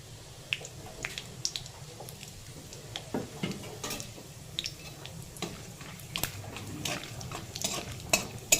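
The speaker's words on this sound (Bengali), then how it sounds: "ফোড়নটা ভালো করে ভেজে নেব" Whole cardamom, cloves, cinnamon, cumin seeds and a dried red chili tempering in a kadai, a quiet, soft sizzle broken by scattered sharp pops and light stirring clicks.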